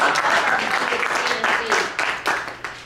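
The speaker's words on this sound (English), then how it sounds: "Can we give very much. our I mean, very much. round of applause for Harry and our friends" A small audience at a village flooding steering committee meeting applauds, a steady clatter of hand claps lasting about three seconds with uneven pulses, fairly close and loud.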